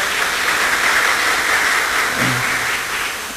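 Applause welcoming attendees at a 1979 school batch reunion, a dense continuous clapping from a crowd that holds steady for about three seconds and eases slightly at the end.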